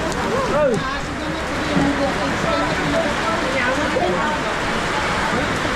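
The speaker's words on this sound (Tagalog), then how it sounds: "Ayan, na, na ano yung lakas ng ulan guys." Heavy rain pours steadily outdoors in a broad, constant wash, with people talking and calling out over it throughout.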